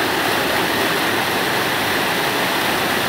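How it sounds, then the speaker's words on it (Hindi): Water pours in a continuous, loud rush of white noise, a steady waterfall roar with no pauses, in the forest of Dachigam Wildlife Sanctuary near Srinagar. "झरना यहाँ पर बहता हुआ"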